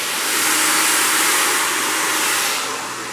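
A heat gun blows steadily on a plastic cover being stretched over a kitchen chair seat, a continuous close airy roar with no pauses, easing slightly toward the end.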